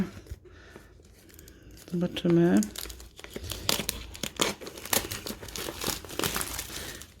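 A taped parcel is opened with scissors on hand, with crinkling and tearing packaging in irregular bursts and one louder rip near the start, while someone talks over it.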